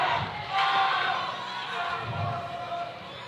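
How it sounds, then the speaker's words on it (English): Basketball crowd at a boys' high school game between Silo and Fairview, a broad wash of cheering and excited shouting from the far side of the gym, rising and falling in bursts with voices mixed in. "the crowd getting excited over there on the far side"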